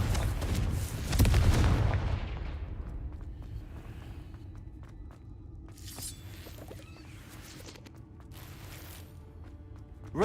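A spell blast from the Hogwarts Legacy fantasy game: one loud booming explosion near the start that rumbles and decays, followed by quieter scattered crackles and game ambience.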